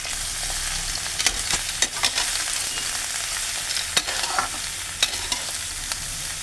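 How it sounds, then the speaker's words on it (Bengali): Eggplant pieces sizzle and crackle in hot oil for a Bengali eggplant paneer dish, a steady dense fry with scattered pops and stirring clicks, no talking. "এরপর আমি ধীরে ধীরে বেগুনগুলো দিচ্ছি। আপনারা তো জানেন তেলে বেগুন ছাড়লে কীরকম হয়"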